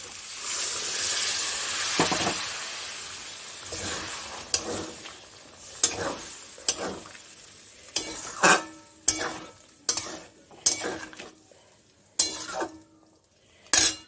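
Hot water poured into a pan of frying jackfruit masala, a broad hiss and sizzle that gradually settles, followed by a series of sharp metal spoon clinks and scrapes against the pan.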